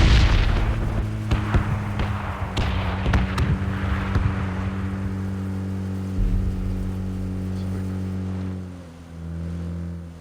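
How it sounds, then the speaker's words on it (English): Explosions in the game PUBG on Xbox One while a vehicle drives through the blast, with loud booms and gunfire-like cracks over a steady engine drone that continues alone after the blasts fade. "Oh my god, it doesn't get any closer than that, does it? Driving through the explosion."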